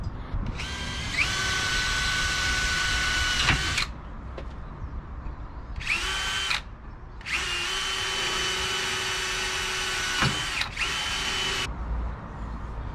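A power drill boring a pilot hole during an off-grid trailer fit-out, in three loud sustained runs with short pauses between them and the motor pitch shifting as it bites, no talking.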